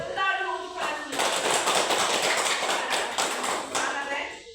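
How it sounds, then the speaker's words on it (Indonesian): Fifth-grade schoolchildren in a mathematics class at an Indonesian elementary school clap together in a dense, steady burst of applause lasting a few seconds after the teacher's prompt. "Oke, tepuk dulu untuk kalian semua."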